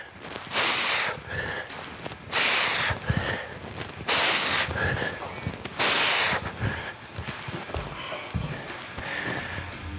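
Forceful rhythmic breaths, sharp exhales and snort-like huffs, come in about four bursts timed to one-arm rotational kettlebell swings, close to the microphone, with soft thuds of movement between them.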